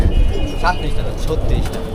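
Racing pigeons coo softly in a loft, with a brief low burble standing out under ongoing talk and background noise.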